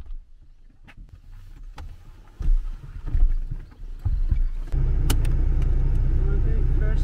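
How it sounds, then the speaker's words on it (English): A car's engine rumbles as it pulls away to start a drive, swelling in short surges before settling into a loud, steady low drone, with voices inside the car. "let's go driving!"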